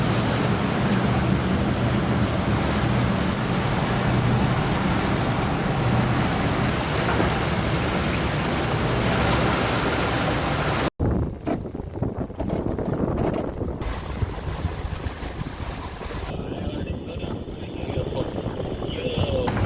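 Strong wind buffets the microphone aboard a sailboat in the Straits of Malacca and Singapore. A loud, steady roar fills the first half, then cuts to gustier wind with water wash.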